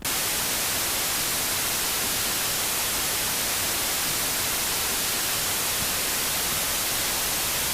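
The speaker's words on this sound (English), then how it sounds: "it was literally 8 seconds of white noise" Steady white noise, the whole track released as a song, a flat, unchanging hiss across the full range, loud and continuous with nothing else in it.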